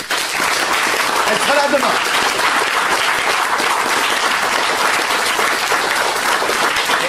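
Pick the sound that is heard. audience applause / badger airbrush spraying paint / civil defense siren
audience applause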